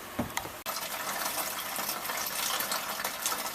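Hot wort returning through a cooling loop while home-brewing an IPA, a continuous close splashing pour of liquid into a vessel, steady and fairly loud, broken by one brief interruption early on.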